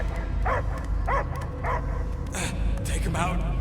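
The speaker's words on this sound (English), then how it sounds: "I hear only barking." Dog barking and yelping in the Guardians of the Galaxy video game, several bark-like bursts over a steady low rumble of game ambience and music, with voices also present.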